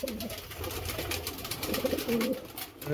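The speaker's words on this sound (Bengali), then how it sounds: "এখানে 300-র কাছাকাছি পায়রা আছে।" A flock of about 300 caged pigeons coos continuously, a low, overlapping murmur of calls with rustling and flutters, heard nearby.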